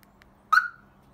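A single short electronic chirp from a Scorpion car alarm as a Peugeot J9 van locks, sharp and clear against a quiet background.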